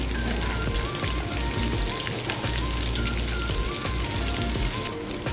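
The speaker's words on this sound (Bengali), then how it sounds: "তেলটা আমার গরম হয়ে গেছে, আমি একে একে তেলে চপগুলোকে ছেড়ে দিচ্ছি। এটা আমি ডিপ ফ্রাই করব।" Banana flower chops frying in hot oil give a close, rain-like patter of sizzling bubbles, steady and unbroken, with no talk.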